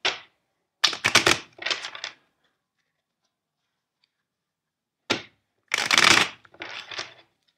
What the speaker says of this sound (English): let's shuffle the deck 5 times for you.